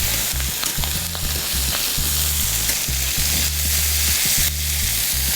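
Salmon fillet frying skin-side down in a hot pan, a steady dense sizzle with crackling pops throughout, loud and close with no voices.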